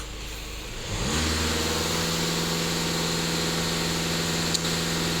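Skoda Octavia 2.0 TDI diesel engine rising from idle into a steady high rev, loud and sustained close by with no talking.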